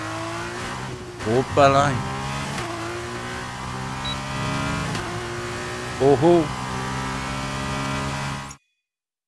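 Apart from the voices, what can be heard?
F1 car engines revving, from the video game F1 22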